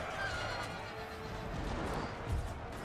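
Horses neigh and whinny amid a Napoleonic-era battle in a war video game, close and loud over a dense rumble of hooves and clashing combat noise.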